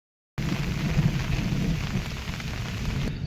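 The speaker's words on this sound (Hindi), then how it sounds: "ये गाइस आप बारिश की आवाज़ सुन सकते हैं।" Heavy rain pours down at Ratighat in a dense, continuous hiss with a low rumble underneath, starting abruptly after a brief silence and holding steady throughout.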